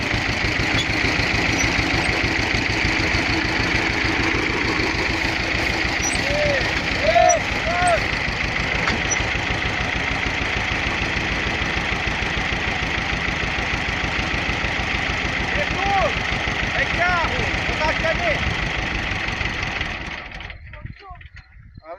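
A tractor engine idles steadily during hay collection on a farm, a constant droning hum that holds for most of the stretch before cutting off near the end, with faint voices briefly audible over it.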